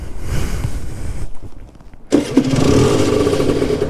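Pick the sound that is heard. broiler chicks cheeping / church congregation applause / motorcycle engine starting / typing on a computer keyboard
motorcycle engine starting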